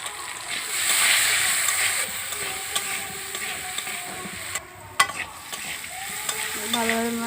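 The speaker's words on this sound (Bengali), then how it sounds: "নুন পরিমাণ মতন দিলাম একটু ভালোভাবে নেড়ে নিই" Small puti fish are stirred with salt in a hot frying pan with a steady sizzle, scraping and occasional clinks from a spatula, close and continuous. A voice speaks over the cooking.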